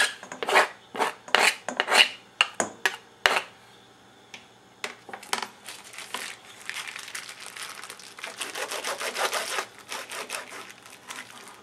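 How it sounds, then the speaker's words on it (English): A flat side of a knife scrapes artichoke for a spinach artichoke dip, first as a series of quick, sharp rasping strokes, then a pause, then a longer run of steady, close scraping. "You could use the flat side of a knife and scrape it."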